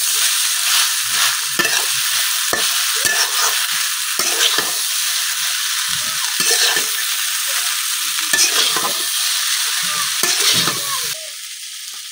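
Noodles tossed with egg in a hot pan make loud, continuous sizzling broken by repeated scraping strokes of a spatula, close up, before the frying quietens at the end.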